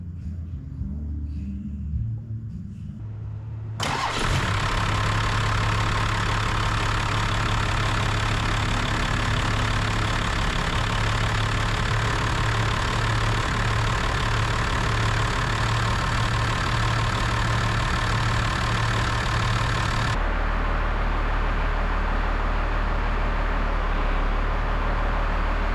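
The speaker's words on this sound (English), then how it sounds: "we're going to turn the vehicle on, and then we're going to move the wheels back and forth to bleed the system of air" A First Gen Cummins diesel engine starts and settles into a steady, loud idle with a deep rumbling drone, running continuously close by while the vehicle is parked for a power steering fluid top-up.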